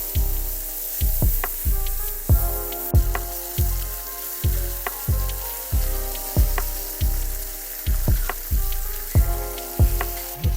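Eggs, hash browns, green peppers and onions sizzle steadily on a Blackstone flat-top griddle, with a loud continuous fry broken by regular rhythmic scraping strokes of a spatula, close up and with no talking.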